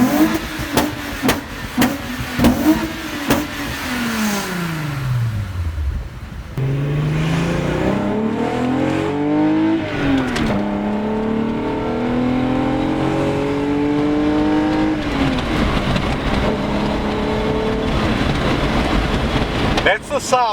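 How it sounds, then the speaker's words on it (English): Volkswagen Golf VR6 engine revving and driving, several sharp throttle blips followed by repeated rising and falling pulls through the gears, close and loud with road noise underneath. "That's the sound of a canned VR6."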